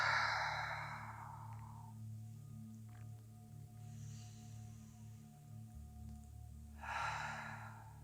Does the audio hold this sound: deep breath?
yes